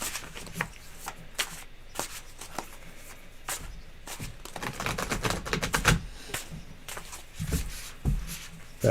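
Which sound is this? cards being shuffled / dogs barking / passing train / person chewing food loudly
cards being shuffled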